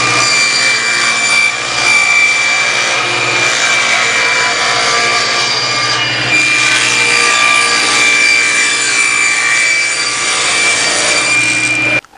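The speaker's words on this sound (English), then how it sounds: "And now I can make these cross cuts" Miter saw cross-cutting wood, a loud steady high-pitched motor whine with the blade's rasp through the board, close and continuous for about twelve seconds before spinning down.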